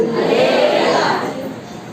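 A church congregation shouts back together in response to a Telugu-speaking preacher, a loud, massed roar of voices that fades after about a second.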